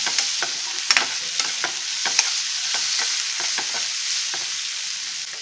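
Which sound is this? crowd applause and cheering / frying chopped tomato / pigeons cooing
frying chopped tomato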